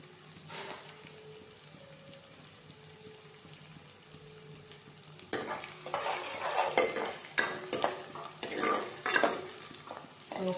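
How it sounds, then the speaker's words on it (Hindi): Onions dropped into a pot with garlic and cumin, quiet at first, then a louder burst of sizzling frying with irregular scraping stirs over the last half. "यहीं से डाल देती हूँ मैं प्याज और सारी चीजों को अच्छी तरह से भूनेंगे"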